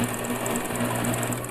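Sewing machine stitching bias binding onto a neckline, a steady close mechanical whir running without a break.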